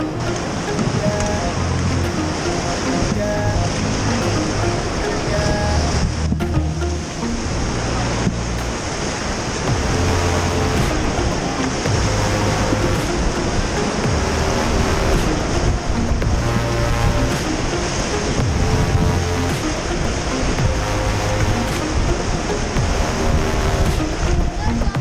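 Whitewater of the Hilton rapid on a rafting run in Rishikesh roars continuously and loud, a dense rushing churn with wind buffeting the microphone and faint background music throughout.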